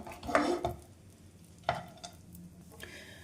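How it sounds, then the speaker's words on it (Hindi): Raisins roasting in a pan over a sim-to-medium flame: a few soft scrapes and clinks of a spoon moving them around, quiet and close, with gaps of near silence. "ये जो किशमिश के दाने हैं वो हल्का सा फूलना स्टार्ट हो जाएंगे, बस तभी तक हम इनको भूनेंगे"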